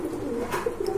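A Pakistani breed of pigeon gives a brief low coo, close and soft against a light background hiss, with no one speaking.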